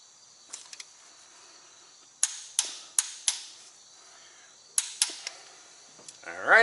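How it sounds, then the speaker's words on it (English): A torque wrench snaps sharply as a Cummins ISX15 injector hold-down in a Kenworth T680 truck is tightened to 59 foot-pounds, with a few faint clicks, then a run of close metallic clacks and a final pair. "we got to torque this hold on to it to 59 foot-pounds"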